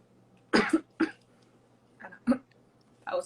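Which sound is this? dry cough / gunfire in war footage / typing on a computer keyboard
dry cough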